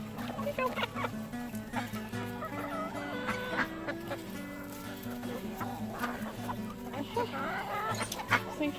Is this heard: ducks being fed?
yes